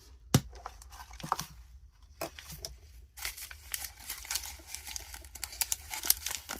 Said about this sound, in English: What you're trying to listen for is the sound of the mustard seeds.